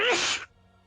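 A single sharp, breathy sneeze bursts out close by and cuts off quickly, leaving near silence.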